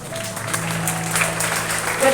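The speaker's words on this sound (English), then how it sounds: "Let us give them a loud applause." Students at a school assembly clapping for prize winners, a brief wash of applause across a hall, with a steady tone underneath.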